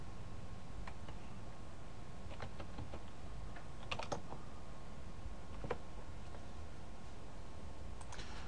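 Keys clatter on a computer keyboard as network commands are entered, bursts of close, light clicks with short pauses between them over a quiet background.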